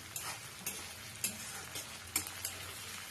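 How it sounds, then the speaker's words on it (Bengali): Onions frying with ginger-garlic paste in a pan for a light fish curry, giving a soft steady sizzle broken by several brief scraping stirs, fairly faint and with no voices. "এবার আমি একটু আদা রসুনের পেস্ট বানানো ছিল, সেটা এর মধ্যে দিয়ে দিলাম। পেঁয়াজটা আমার ভাজা হয়ে গেছে অলমোস্ট।"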